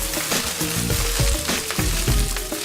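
Spinach sautés in hot oil in a pan with a steady, dense sizzle throughout and a few louder crackling bursts, close and loud, no voices.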